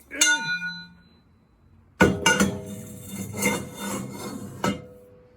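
A 4-foot length of 1.5-inch steel tubing with 1/8-inch walls rings with a clear metallic clang, then a second sharp strike and a few rattling knocks as it is handled nearby.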